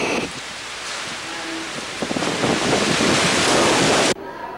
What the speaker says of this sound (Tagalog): Ramdam ang malakas na bayo ng hangin dala ni Lawin.